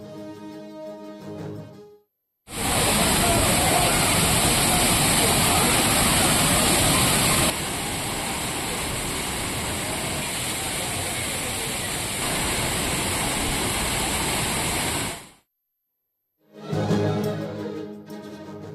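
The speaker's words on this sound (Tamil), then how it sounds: "திருப்பரப்பு அருவியில் குவிந்த சுற்றுலா பயணிகள். அருவியில் ஆனந்த குளியல் போட்டு உற்சாகம்." Roaring rush of the Thirparappu waterfall with tourists bathing beneath it, a loud steady wall of falling water lasting about thirteen seconds, with no voices standing out.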